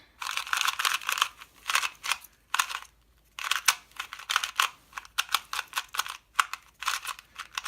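An 8x8 speed cube is turned in quick bursts of sharp plastic clacks, each flurry of rapid clicks broken by short pauses, close and crisp with no talking.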